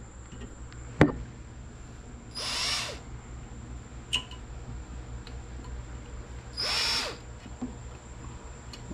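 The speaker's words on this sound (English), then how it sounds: "that's where we're going to drill the new hole" Drill boring a new hole in a Crazy Cart XL kart's motor support bracket, with two short, even whirring bursts close by, separated by sharp metallic taps and clicks.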